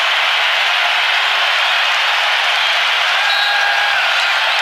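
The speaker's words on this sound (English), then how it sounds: "You could barely hear the whistle with the crowd coming alive at Climate Pledge Arena" Dense, steady crowd roar fills a basketball arena, Climate Pledge Arena in Seattle, during a Gonzaga vs Alabama college game, a continuous wash of cheering at constant loudness with no distinct voices rising out of it.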